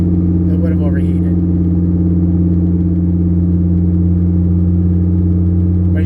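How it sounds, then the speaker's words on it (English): A Chevrolet Colorado truck engine runs steadily while driving, a loud, constant low rumble with strong engine hum and no breaks throughout. "As you guys can tell, she runs and drives."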